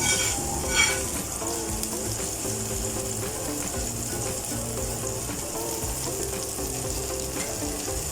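Leftover frying oil with herbs and spices sizzles steadily in a saucepan, a dense close crackle with faint scraping and clicking from stirring, no speech over it.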